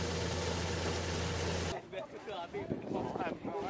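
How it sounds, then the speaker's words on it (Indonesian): A motorized corn sheller stripping maize at a harvest in Sumba Barat Daya gives a loud, steady engine drone with a humming pitch for under two seconds, then stops abruptly and leaves quieter outdoor background and voices. "melakukan pemipilan jagung dengan menggunakan mesin pemipil"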